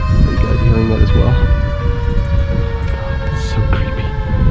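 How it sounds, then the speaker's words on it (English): The Siren Head creature in a horror video game lets out a loud, sustained wailing siren call with droning layered tones, rumbling underneath and holding steady throughout. "Siren Head. Are you guys hearing that as well?"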